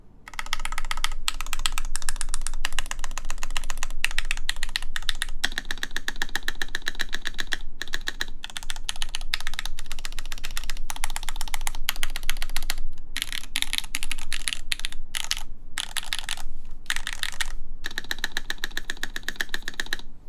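Continuous typing on a custom mechanical keyboard with PBT keycaps, a steady, close clatter of keystrokes that runs throughout with brief pauses and no talk.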